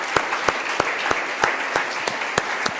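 A church congregation applauds the Lord with steady, rhythmic clapping in unison, a row of sharp even claps at a brisk beat and no talk over it.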